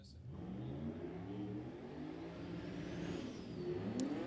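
A drag racing car launches off the line at a South Georgia drag strip event and accelerates steadily away, its engine note rising through a continuous, loud roar that holds for several seconds.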